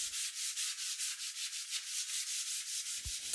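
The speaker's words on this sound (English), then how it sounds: "gave it a scuff sanding like the rest of the table had using a 180 sanding sponge" Soft, rhythmic rubbing as a 180-grit sanding sponge scuffs back and forth over a console table in steady strokes, ending with a small knock.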